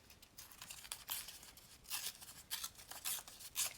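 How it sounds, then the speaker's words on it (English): Paper is torn by hand for a vintage envelope and journal craft, giving several short, crisp ripping bursts in an uneven rhythm, close and fairly quiet, with pauses between tears and no speech. "I want to tear it this way"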